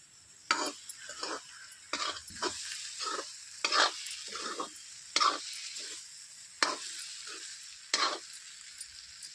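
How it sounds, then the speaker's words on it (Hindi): Tomato masala frying in a pan with salt added, a soft continuous sizzle broken by repeated scraping strokes of a spoon stirring against the pan, close and moderately quiet, spaced every second or so. "और सभी को अच्छी तरह से तल लेती हूँ"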